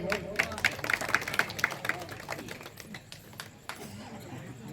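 An audience claps at a devotional kirtan gathering, a brisk burst of applause that fades after about two seconds and gives way to crowd murmur and talking.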